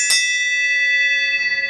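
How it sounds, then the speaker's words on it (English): A dinner bell is struck once, giving a bright metallic clang that rings on as a sustained, slowly fading tone, close and alone with no voices. "I'm going to ring the bell."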